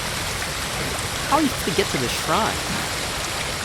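Steady rushing water from a waterfall in the video game Ghost of Tsushima fills the scene as a continuous broadband wash, with someone talking briefly over it.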